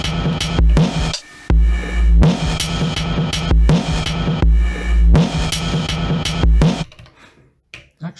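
Drum loop programmed on an Elektron Digitakt with hi-hats at varying loudness, punchy repeating kick and percussion hits in a steady pattern that stops and trails off near the end, with no voices.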